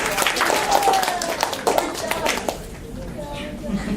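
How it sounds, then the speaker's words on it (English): Audience clapping after a speaker at a debate-style event, a burst of claps mixed with children's voices that thins out and quiets after a couple of seconds. "Clap, clap, clap, please."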